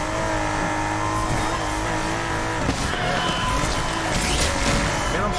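A race car in the Need For Speed video game drives with a steady engine drone and touches of tire squeal, while a voice talks over it throughout.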